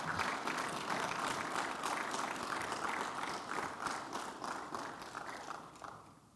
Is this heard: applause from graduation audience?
yes